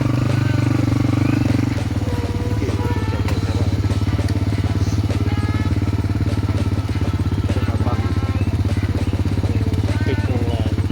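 A standard motorcycle rides a rough trail toward Wedi Ireng in Banyuwangi, its engine droning loud and close throughout, with clattering knocks and thuds from the bumpy track.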